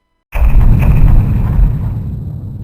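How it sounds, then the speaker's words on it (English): A single heavy video game cannon shot bursts out of silence, then rolls off into a long, fading rumble. "1 cannon shot can be heard in the distance."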